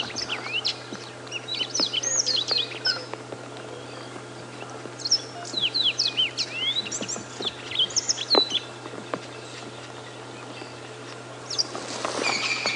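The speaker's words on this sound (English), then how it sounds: "That's the yellow-fronted canary." Bright, rapid yellow-fronted canary song in repeated twittering phrases, fairly close, with other faint chirps and a low steady hum underneath, at Djuma Game Reserve, South Africa.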